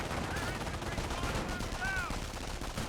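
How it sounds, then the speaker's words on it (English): A Bren carrier and infantry exchange gunfire in the Company of Heroes strategy game, with rapid bursts of automatic fire and overlapping shots in a busy battle din. "And Lieutenant from now firing away. Bren carrier firing."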